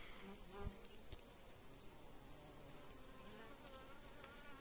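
Bees buzz steadily around beehives at an apiary in Thola Pampa, Bolivia, where the colonies are aggressive; a dense, continuous hum carries on with insect chirring and a few soft knocks.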